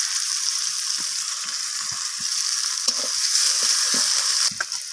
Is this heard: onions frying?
yes